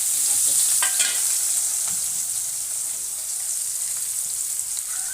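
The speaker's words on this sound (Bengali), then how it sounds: "এবার পেঁয়াজগুলো দিয়ে দিচ্ছি" Onions drop into hot oil already holding bay leaves and cardamom and sizzle loudly in the pan. A continuous frying hiss with a few sharp spatters and stirring scrapes stays close and dominates.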